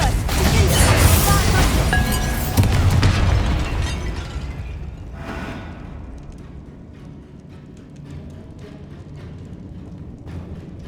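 A fire-blast spell in the video game Hogwarts Legacy goes off with a loud burst and crashing debris, then the noise thins into scattered clatter and a low, fading rumble.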